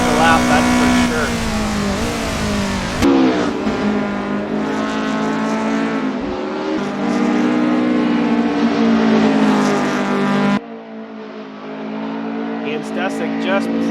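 A Toyota AE86 race car engine in a sim racing game at Lime Rock: a steady, loud, revving drone whose pitch rises and falls, with sharp shifts near 3 and 10.5 seconds and a voice talking over it.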